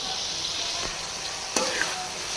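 Chicken and capsicum fry in a pan, giving a steady, moderately faint sizzle with a couple of brief clinks or stirring knocks near the end.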